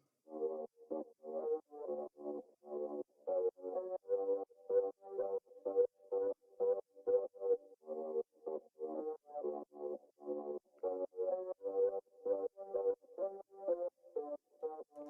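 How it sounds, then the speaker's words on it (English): A clavinet preset from Analog Lab plays a layered bass line alone: clipped, plucky, midrange notes in a repeating funky rhythm, clean and fairly quiet, with short gaps between phrases. "the new sound is coming from Analog Lab, and it's actually a clavinet preset"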